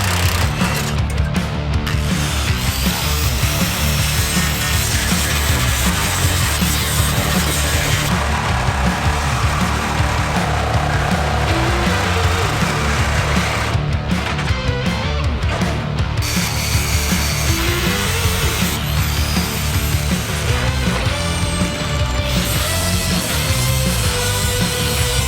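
An angle grinder cuts through the steel side of a ute tray, giving a loud, continuous, harsh whine and metallic rasp that holds steady for the whole stretch, close by with no talk.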